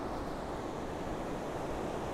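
Sea waves washing onto a beach: a constant, soft broadband roar of surf with a faint wind rush, even and unbroken throughout, with no voices.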